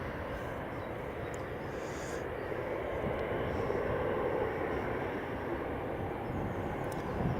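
A Jet2 airliner approaching at Edinburgh Airport gives a steady, moderately loud engine roar that swells slightly midway, with no talking.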